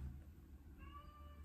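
A cat meows indoors, a faint drawn-out tonal call rising in the second half over a steady low background hum.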